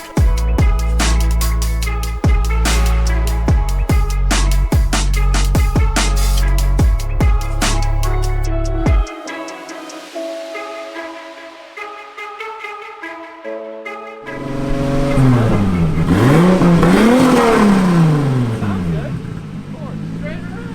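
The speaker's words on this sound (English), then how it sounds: "it's time to do your customary introductory burnout" A turbocharged 2JZ-engined Nissan S15 revving hard through a burnout, rapid sharp rev bursts for several seconds, then a lull and a rising, wavering engine howl, loud and close, with people talking over it.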